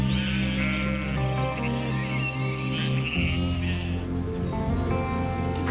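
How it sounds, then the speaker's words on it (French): Ewes bleat repeatedly as they are brought in, amid a steady low rumble and layered background noise, several calls overlapping at moderate distance. "on va rentrer les brebis en fait"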